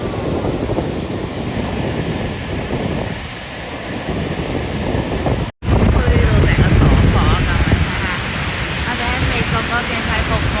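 Niagara Falls roars in a broad, loud, continuous wash of water noise, heard from the American side in winter, with wind buffeting the microphone and a brief dropout midway.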